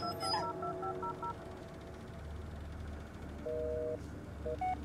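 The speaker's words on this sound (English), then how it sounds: "Can we call Jess" Phone dialing in the video game Blair Witch: a series of short electronic DTMF keypad tones, then a longer sustained tone pair, over a low ambient game rumble with no talk.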